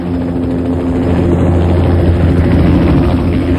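In a radio drama, a helicopter roars steadily and loudly, a dense, constant engine and rotor drone filling the whole stretch with no talking.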